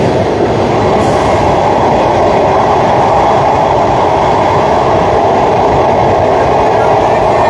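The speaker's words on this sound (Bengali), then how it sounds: "পদ্মা সেতুর ভেতরে প্রথমবার ট্রেন ঢুকলো।" The first train from Dhaka's Kamalapur station rolls onto the Padma Bridge toward Bhanga, producing a loud, steady, close rumble of wheels and carriages that continues without a break throughout.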